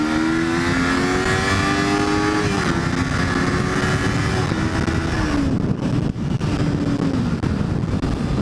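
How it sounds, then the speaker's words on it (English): 2008 Kawasaki Ninja 250 pulling hard in first gear, a loud, close engine revving steadily upward in pitch, with brief dips where the throttle eases before it climbs again, plus heavy wind rush. "I will leave you guys with one more first gear pull."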